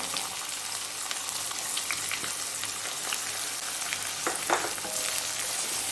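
About 150 grams of finely chopped small shallots sizzle in hot oil for a chicken curry (kulambu): a steady, close, dense frying crackle with a few sharper pops, with no voices.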